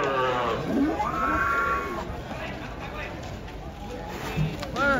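White cattle come off a truck, with cattle calls rising and falling through the clip over steady vehicle or crowd noise and voices talking.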